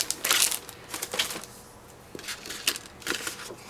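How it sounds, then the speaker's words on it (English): Paper flower shapes being cut with a cardmaking die, several loud crackling, crunching bursts close up as the die-cutting machine presses and the paper is handled, without talk. "So let me cut this guy out."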